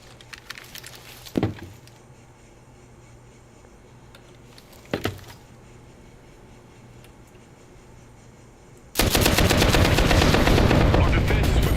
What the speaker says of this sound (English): Mount the machine gun and hit the marked target using the machine gun.